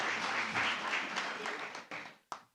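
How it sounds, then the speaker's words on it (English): Audience applause at a stakeholder roadshow event, a dense wash of clapping that holds steady and then thins out, ending with a couple of isolated claps. "Another round of applause, ladies and gentlemen."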